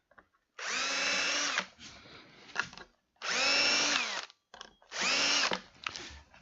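A power drill fitted with a self-centering Vix bit whines in three long, loud bursts, each running about a second, separated by short pauses with small clicks and handling noises, close up and with no voices.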